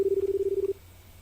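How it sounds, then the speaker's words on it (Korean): A single steady dialing tone from a payphone keypad in a video game sounds loud and close for under a second, then cuts off into near silence. "이번에 10년 전에 다나카한테 전화를 건다"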